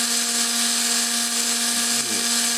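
A 1mm drill bit bores into a tiny wheel of a 1:64 scale toy car, a steady high-pitched motor whine held close and continuous, dipping briefly near the end.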